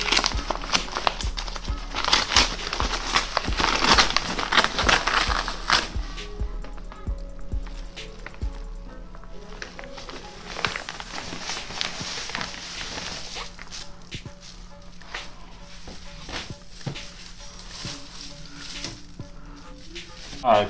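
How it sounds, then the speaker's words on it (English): A mailing envelope package for a sneaker cleaning kit being torn open by hand, with close, continuous crinkling, ripping and rustling of paper and plastic that gradually settles into quieter handling noises. "Let's rip this open."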